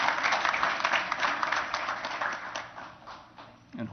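Gala audience applauding at a scholarship gala, a dense, steady wash of clapping from many hands that holds for several seconds before thinning out near the end.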